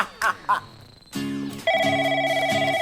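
A telephone rings with a steady electronic tone, starting partway through and repeating in even bursts, close and fairly loud, after a few brief vocal sounds at the start.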